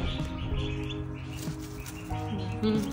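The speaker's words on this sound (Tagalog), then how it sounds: "Pasisid pa. Yung ating mga sisiw dyan." Young chicks chirping in a steady, overlapping stream of high, thin peeps close by, with a continuous low background hum underneath and no talking.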